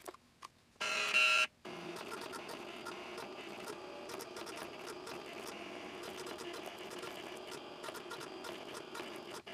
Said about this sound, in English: the machine will kick it out just far enough that you can remove the foil so that it now can do the cut part